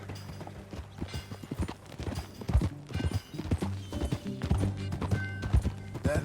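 Horse hooves clip-clopping steadily in the Red Dead Redemption 2 video game, a continuous trotting rhythm over a music bed, moderately close, with no speech.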